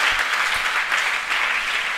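An audience at a weekly gathering claps loudly to welcome the speakers, dense continuous applause filling the room with no voices over it.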